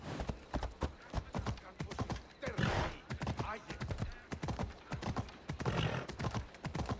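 Horse hooves clip-clop in a quick galloping rhythm with a couple of whinnies, close and fairly loud, from a horse near a temple in Corinth in the game Assassin's Creed Odyssey.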